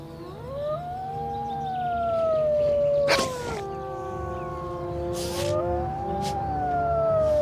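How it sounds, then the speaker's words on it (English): Wolves howl in the Yosemite wilderness, several long rising and falling tonal calls overlapping in a chorus, clear and sustained, with a few short sharp noises breaking in. "The wolf's howl, perhaps the most iconic sound of the wilderness"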